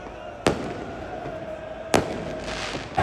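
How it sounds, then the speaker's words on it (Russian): Two sharp fireworks bangs go off about a second and a half apart, with a third starting at the end, over a continuous crowd-like background roar, set off by football fans in the waiting area outside San Siro stadium before a Champions League semi-final. "Фанаты Барселоны запускают салют прямо в зоне ожидания перед входом."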